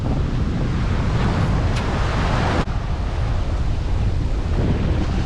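Strong wind and rolling surf at a seaside house build site in Antique, Philippines, a steady loud roar of gusts buffeting the microphone over breaking waves, continuous for the whole stretch with no voices.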